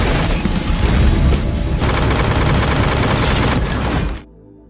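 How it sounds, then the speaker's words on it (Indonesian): In a film scene, an attack drone rakes a moving car with gunfire, a dense, loud continuous barrage of rapid shots and booms lasting about four seconds before cutting off abruptly. "yang sedang dalam perjalanan bersama Orlin, drone penghancur itu otomatis langsung memberondong mereka dengan tembakan."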